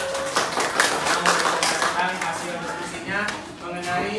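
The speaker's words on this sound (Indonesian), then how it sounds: "Terima kasih tepuk tangan untuk kelompok 1." A classroom of students claps for a student group, giving scattered, uneven hand claps with distinct individual strikes, and voices are heard alongside them.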